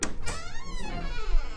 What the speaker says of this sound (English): The bathroom door opening.